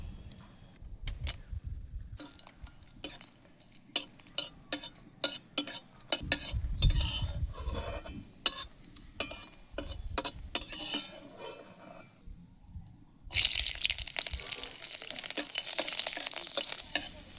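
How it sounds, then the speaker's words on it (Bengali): Dried red chillies and garlic frying in oil while a metal spatula stirs and scrapes the pan, giving irregular clinks and scrapes over a soft sizzle, followed by a sudden loud burst of sizzling near the end. "প্রথমে ভেজে নেবো শুকনো লঙ্কা আর রসুন।"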